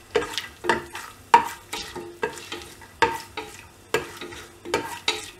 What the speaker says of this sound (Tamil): இதிலே வந்து நம்ம முந்திரியும் ஆட் பண்ணிவிட்டு வதக்கி விட்டுடணும்.